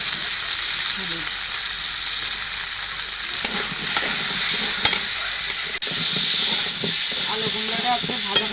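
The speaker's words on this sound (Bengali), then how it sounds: "আলু কুমড়োটা একটু ভাজা ভাজা করে নিয়েছি।" Potato and pumpkin pieces frying in a kadai with salt and turmeric, a steady close sizzle with intermittent stirring scrapes and a light clatter of the spoon; a voice speaks briefly underneath.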